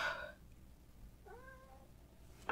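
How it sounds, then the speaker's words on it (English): A house cat gives two faint meows, one at the start and a drawn-out one in the middle, against quiet background noise. "My cat is meowing."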